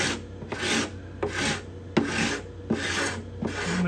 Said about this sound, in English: I'm going to try the other side of this scraper